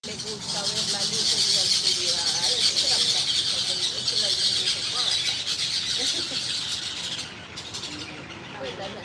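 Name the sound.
birds in a tree squabbling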